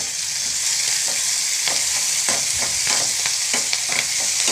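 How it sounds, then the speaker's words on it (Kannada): Chopped onion and tomato fry in a pan with curry leaves and salt, giving a loud, steady sizzle broken by repeated scraping stirs. "ಹೆಚ್ಚಿಟ್ಟಿರುವ ಈರುಳ್ಳಿ ಮತ್ತು ಟೊಮೊಟೊವನ್ನು ಫ್ರೈ ಮಾಡೋಕ್ಕೆ ಹಾಕಿದ್ದೀನಿ."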